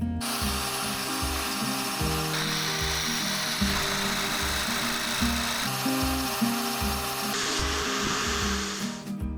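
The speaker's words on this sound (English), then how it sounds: "I decided to drill a hole at the back of the connector" A power drill bores a hole into the back of a metal battery cable connector during a camper van's 12v electrics install, a loud steady grinding whine close up, changing pitch as it bites.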